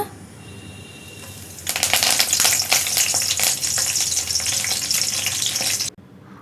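Cinnamon, cloves, cardamom and curry leaves drop into hot oil for a chicken gravy. After a quiet start, a loud, dense crackling sizzle erupts and holds steady for about four seconds, then cuts off abruptly.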